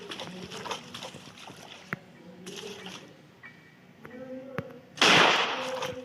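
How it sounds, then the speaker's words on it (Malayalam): A single sharp gunshot fires in the Granny Legacy horror video game, a sudden loud burst late in the clip after quieter game clatter, with a voice talking. "അതിനു മുമ്പ് ഞാൻ ഇവിടെ ഒന്ന് വെടിവെക്കട്ടെ"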